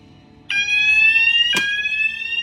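A fire alarm sounder in a building gives two sharp electronic onsets, then holds a steady loud multi-tone ring, with no voices.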